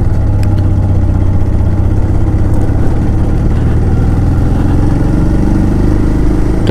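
A motorcycle engine drones steadily and close up on a morning ride along a forest road in Jharkhand, shortly after the chain was tightened, with a continuous low rumble and wind noise and no talking.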